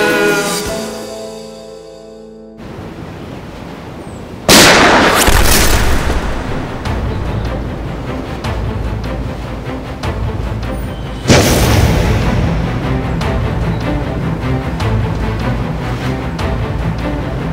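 Sudden loud gunfire bursts in a Turkish drama scene: a heavy boom at about four seconds and another sharp blast later, each followed by sustained noisy rumble and crackle, after a quieter musical opening.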